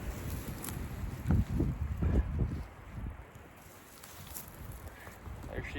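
Gusty wind blowing outdoors in rugged New Mexico country, rumbling across the microphone in strong bursts that rise and fade, loudest in the first half, then easing to a steadier low rush.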